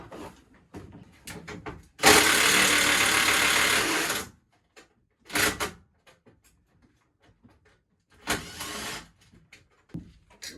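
A power screwdriver drives a screw into the frame of an old folding chair being built into a torch cylinder cart, with one long whirring burst and a few shorter ones between handling clicks and taps.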